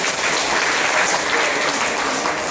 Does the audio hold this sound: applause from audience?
yes